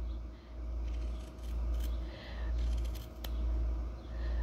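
Scissors cutting felt pieces close up, a series of slow rhythmic snips and soft crunches repeating about once a second, with no talking.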